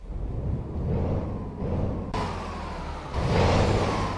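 A 450 horsepower Scania truck engine in a truck simulator game, a low muffled drone that swells and eases across a few shifts, steady and fairly quiet.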